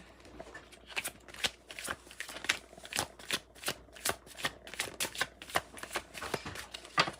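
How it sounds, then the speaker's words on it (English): Rapid riffle-shuffling of tarot cards, a steady run of crisp papery bursts repeating about twice a second, close and clear with no talking. "Now let's shuffle like this"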